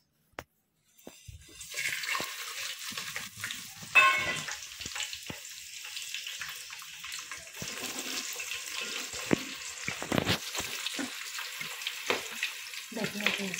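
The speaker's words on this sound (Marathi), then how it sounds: "तर ते घेतलेत खडे मसाले एवढे त्याच्यामध्ये टाकते तेलात" Whole spices dropped into hot oil for chicken biryani, a sudden loud sizzle bursting up and then settling into steady, close crackling frying with occasional spatters and clinks, no voices.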